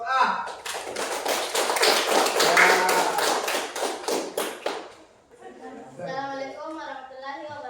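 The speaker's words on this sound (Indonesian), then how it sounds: "Sekali lagi kita berikan aplaus untuk kelompok A." Applause from a small group at a classroom presentation, a burst of loud rhythmic clapping for about five seconds close by, then fading as a voice begins speaking.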